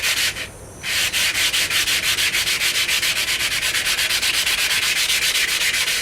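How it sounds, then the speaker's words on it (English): Rhythmic long strokes of 60 grit sandpaper worked by hand along a forged steel blade, a steady repeating rasp close up and loud, about fourteen even passes after a brief pause near the start. "the way you sand things to a mirror finish by hand is start with a rough grit"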